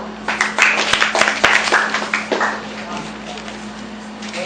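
A burst of audience applause at a Philippine speech event: close, sharp claps that fade over a few seconds, with a steady low hum underneath.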